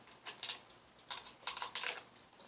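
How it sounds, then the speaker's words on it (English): Revolver being loaded with 158 grain Hydra-Shok rounds from a speed strip, two at a time: a series of light, close metallic clicks and taps in small clusters, fairly quiet with no talking. "Basically, we would open it up, and 2 at a time, put them in and peel them off."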